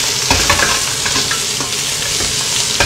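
About 400 grams of green beans frying in hot oil in a wok, a continuous crackling sizzle with scraping stirring strokes, close and loud.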